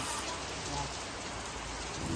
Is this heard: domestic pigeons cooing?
no